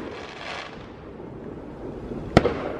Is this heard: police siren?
no